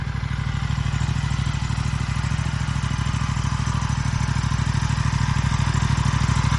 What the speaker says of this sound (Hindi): ये आइडल पे आवाज़ है बाइक की इतनी।